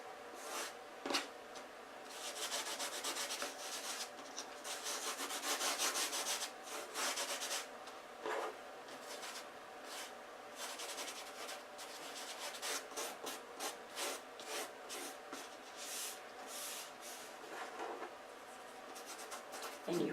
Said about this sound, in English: And you rub this in, you burnish it in, and your finger is probably the best tool to use